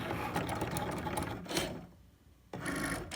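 A Cricut cutting machine works through a cut with a steady, busy mechanical whir and buzz, pauses briefly to a quieter hum, then resumes at full volume close by.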